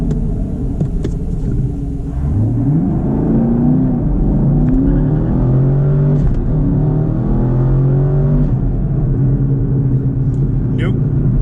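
Camaro SS 1LE accelerating hard, engine rumbling and revving up through rising gear pulls, loud and close from inside the car, with someone talking over it.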